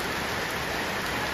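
Heavy rain pours down in a dense, continuous hiss, loud and close, steady throughout with no voices.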